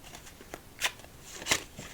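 Playing cards shuffled during a solitaire game, heard as two quick riffling bursts in a short, quiet, close-up moment with no talking.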